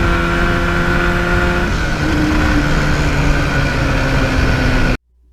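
A 1977 Yamaha RD400 two-stroke motorcycle runs close by, its exhaust giving off a loud, raspy, buzzing drone that shifts pitch midway, then cuts off abruptly.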